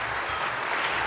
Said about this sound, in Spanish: Ovación de pie.